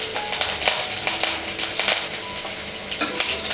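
Green chilies and curry leaves hit hot oil after mustard seeds have popped, producing a loud, close crackling sizzle with rapid spitting bursts throughout.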